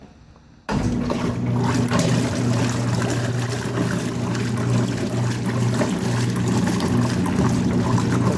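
A vintage Whirlpool washing machine is switched on and starts running and filling with water, a sudden jump from quiet into a steady motor hum with rushing, churning water that continues evenly.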